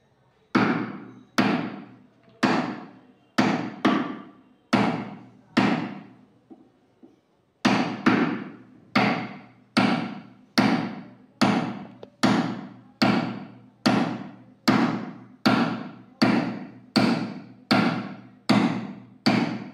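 A mallet strikes a wood chisel again and again in sharp, evenly spaced blows while a hinge recess is cut into a door. After a short pause near the middle the loud, close knocking carries on.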